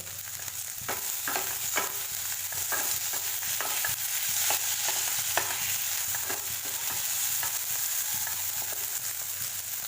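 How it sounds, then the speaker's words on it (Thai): Potatoes stir-fried in a pan over medium-high heat hiss in a constant, even sizzle, with regular soft scraping strokes of a spatula every second or so, close and without talking. "ผัดไฟกลางค่อนข้างแรงนะคะช่วงนี้"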